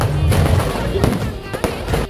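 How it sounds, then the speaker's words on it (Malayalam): Firecrackers burst at a temple festival, a few loud sharp cracks rising out of a dense, noisy crowd din. "നമ്മുടെ ഫ്രണ്ടിൽ കുറച്ച് നീങ്ങിയിട്ടാണ് പടക്കത്തിന് തീ കൊളുത്തുന്നത്"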